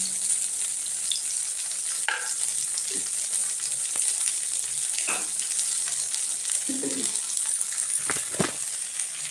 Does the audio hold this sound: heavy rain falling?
no